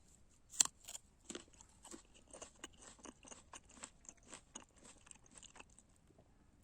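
Faint, close crunching of someone biting and chewing a crisp Angelys winter pear, a quick run of crisp snaps and crackles in an otherwise quiet room.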